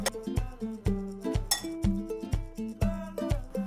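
Egg, mashed banana and oats are whisked in a bowl, giving a quick, regular run of light clinks and taps against the bowl, close and fairly soft.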